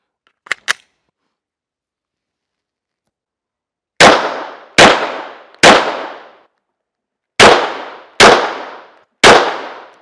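Pistol shots with a laser sight aimed at steel targets: two small clicks, a pause, then six loud sharp bangs with ringing decay, in two groups of three.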